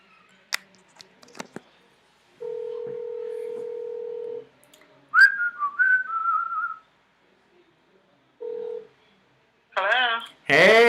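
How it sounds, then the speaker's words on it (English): Telephone sounds with steady electronic ring tones in short bursts, separated by dial beeps and whistled notes, fairly quiet against silence; a voice is briefly heard near the end. "the phone is ringing."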